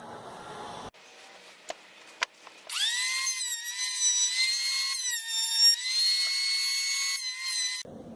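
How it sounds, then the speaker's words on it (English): A power planer cleaning up the edges of pallet wood outdoors: after a few quiet knocks, the motor spins up into a loud, high, steady whine that holds for about five seconds and then cuts off abruptly. "I'm gonna go ahead and use my planer to really clean up these edges."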